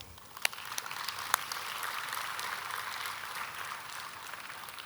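An audience at a school annual day claps together in a steady, even patter that lasts for several seconds, with a few sharper individual claps standing out near the start.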